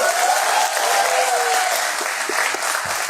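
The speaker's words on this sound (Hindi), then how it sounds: "पहले तो मैं चाहता हूं कि तुम सब अपने लिए एक बार ताली बजा दो" A stand-up comedy crowd claps for itself, a loud, dense wash of applause that fills the room from start to finish and tapers slightly near the end.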